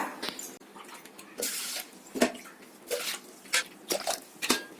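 Water splashes and pours into a pressure cooker in a home kitchen during cooking, arriving in several irregular bursts of close, bright splashing.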